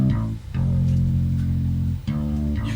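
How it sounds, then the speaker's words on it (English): Bass guitar run through a Distressor compressor in British mode, sounding gritty and distorted, with sustained low notes broken by brief pauses, loud and close with no talking. "You can hear it's really grunging the bass up"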